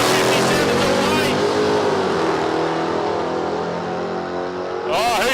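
Loud, roaring engines of drag racing cars launching at Palmyra Raceway in Australia, one a Ute, rising in pitch as they accelerate away, with a commentator talking over the noise.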